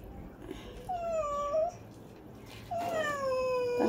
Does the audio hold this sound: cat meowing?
yes